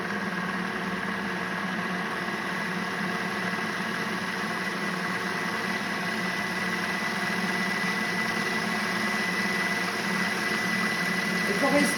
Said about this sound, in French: Donc là, mon huile, vous voyez, je la fais couler.